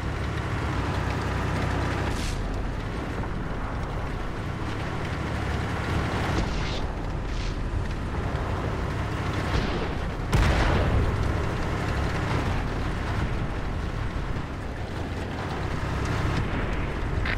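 Tank cannon fire and explosions from the World of Tanks video game boom repeatedly over a dense, rumbling battle bed, with several sharp heavy blasts standing out, the loudest roughly two-thirds of the way through.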